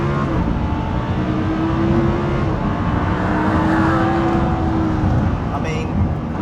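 A Lamborghini Huracan's engine roars steadily as it accelerates hard in second gear, a loud, sustained growl rising in pitch from inside the cabin.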